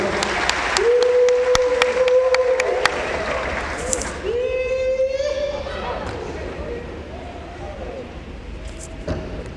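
A church congregation at an Indonesian worship service breaks into loud sustained applause with cheering, shouting and sharp thumps mixed in, while sustained tones and talk sound over the crowd.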